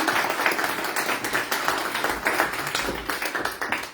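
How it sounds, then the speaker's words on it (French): Audience clapping at a mediumship gathering, a moderate, somewhat uneven patter of hands with distinct individual claps, sustained throughout at mid distance without voices. "Allez, on l'applaudit bien fort."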